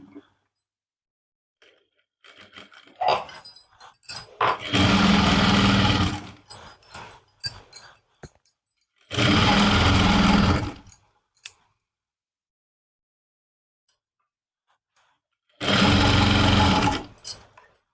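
A sewing machine stitching a suit lining runs in three loud bursts of rapid whirring, separated by pauses filled with faint handling clicks and rustling of fabric.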